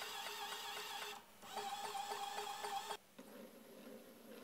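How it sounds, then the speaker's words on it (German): A small geared motor salvaged from an old printer runs at 5 volts, whirring with a rapid ticking gear rattle in two bursts separated by brief pauses, then a quieter hum, close and fairly faint. "Leistungsstärker ist dieser Motor aus einem alten Drucker, der hier mit 5 Volt angesteuert wird."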